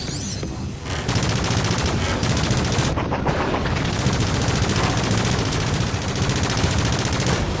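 Machine gun fire in the VR shooter Space Pirate Trainer rattles in a loud, dense, continuous burst of rapid shots that carries on for several seconds after a short lead-in, no talk.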